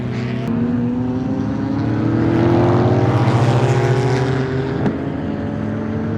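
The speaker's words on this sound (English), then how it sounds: "These are ambiances from a racetrack" Engines drone and whine in a broad outdoor racetrack, pitch rising and falling as vehicles pass at a distance, with a constant rumbling wash underneath.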